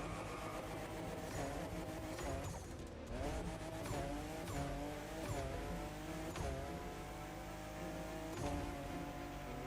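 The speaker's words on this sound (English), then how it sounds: "Car sounds are pretty good, to be fair." Car engine roaring steadily with repeated tire skids and squeals while driving in the racing video game The Crew Motorfest, loud and continuous throughout with the pitch rising and falling.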